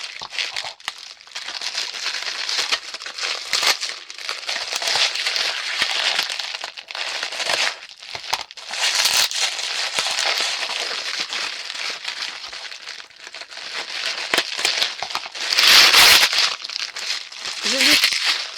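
Crinkly plastic packaging being unwrapped at length, with continuous close crackling and crumpling, louder bursts of tearing, and someone speaking French briefly over it.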